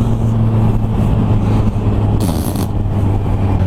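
A 2016 Kawasaki H2 supercharged motorcycle engine drones steadily under load, with a sharp hiss of turbine-like whine partway through, close and loud without talk.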